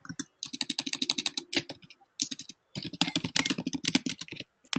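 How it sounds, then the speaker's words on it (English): Rapid clicking keystrokes on a computer keyboard come in quick irregular bursts separated by short pauses, close and crisp, during a remote meeting. "It sounds like you're typing."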